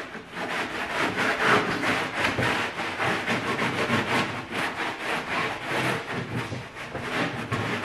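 A rag rubs wax into hot wood on a DIY truck bed drawer, making a steady, close scrubbing rasp with rhythmic back-and-forth strokes throughout, no talking.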